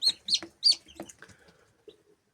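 Brahma, Faverolles and crested chicks peep and chirp in a quick cluster of high calls, a few notes close together that fade into softer cheeps.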